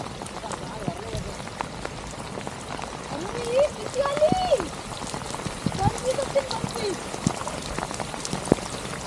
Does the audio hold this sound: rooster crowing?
no